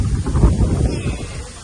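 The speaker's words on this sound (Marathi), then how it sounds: "खूप भारी वारा येतोय" A strong sea breeze buffets the microphone at a beach resort facing the sea in Dapoli, Konkan, a steady low rumble of wind noise throughout with no clear speech.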